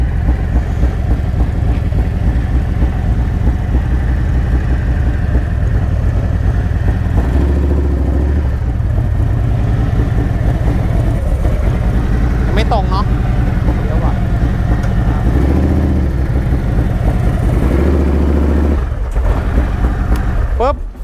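A motorcycle engine runs steadily at a loud, close idle for about twenty seconds while it stands in Pattaya, with a voice talking over the rumble, then cuts out right at the end as it is switched off.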